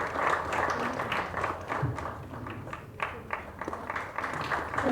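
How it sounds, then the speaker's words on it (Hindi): Audience applause at an Ayurveda conference event honouring a minister, uneven clapping from a modest crowd that rises and dips in bursts over several seconds. "स्वागत कीजिए मैम का जोरदार तालियों से।"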